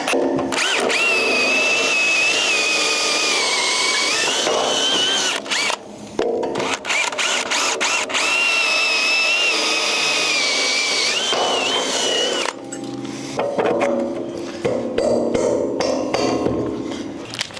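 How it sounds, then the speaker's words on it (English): Power drill biting through timber to bolt off a house beam during framing, a loud continuous whining drone that surges and dips across several long bursts with short pauses between, close up and alone. "now we can go through and bolt this beam off"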